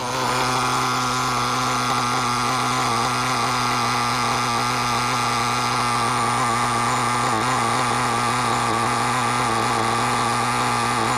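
A Traxxas T-Maxx 3.3 nitro RC truck engine runs loud and steady at close range, a dense buzzing drone that holds its pitch with only slight wavering throughout.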